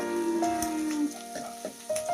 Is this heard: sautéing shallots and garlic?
yes